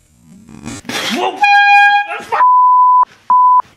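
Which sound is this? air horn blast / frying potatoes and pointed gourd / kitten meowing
air horn blast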